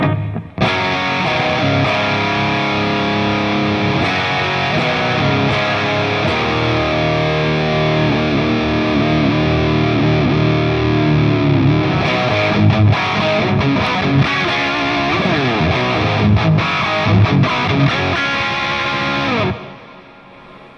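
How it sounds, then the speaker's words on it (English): An electric guitar plays through a Genz Benz El Diablo 100 amp, distorted and drenched in reverb, notes ringing and smearing together continuously for about twenty seconds before stopping. "So we've got a lot of reverb going on."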